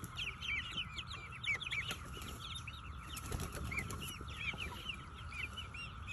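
Backyard hens cluck and chatter while being fed cicadas, with busy overlapping calls and a few wing flaps close by under a low outdoor rumble; no talking.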